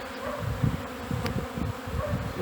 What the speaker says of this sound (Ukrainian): Так облітується карніка